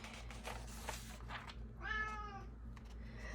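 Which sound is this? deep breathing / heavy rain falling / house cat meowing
house cat meowing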